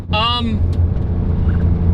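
A Porsche 992 Turbo S accelerating hard, its engine a deep, steady roar that fills the whole stretch, with a voice exclaiming briefly at the start.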